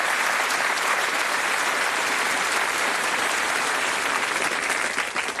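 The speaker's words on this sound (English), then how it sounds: "Give our contestants a nice round of applause." Studio audience of a Bullseye UK game show applauds the contestants, a loud, continuous wash of clapping that holds steady throughout.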